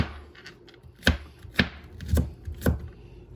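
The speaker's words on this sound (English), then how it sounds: "I have 5 cloves of fresh garlic that I'm just gonna cut up finely" Knife chopping fresh garlic cloves finely on a cutting board: four sharp, distinct chops spaced about half a second apart, close and fairly loud, with no talking.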